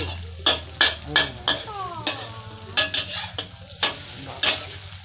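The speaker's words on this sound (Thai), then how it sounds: "ทอดไข่ให้อร่อยต้องแบ่งเป็นสี่ส่วน" Beaten eggs for a Thai omelette sizzle in a pan beside canned fish while a utensil repeatedly scrapes and stirs, giving sharp regular clatters over a soft steady fry, close up with no talk.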